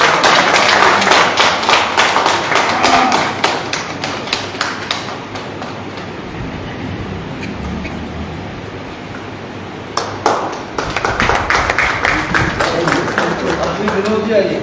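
Audience applause at an honouring ceremony, dense crowd clapping that fills the space, eases off midway, then swells loud again near the end.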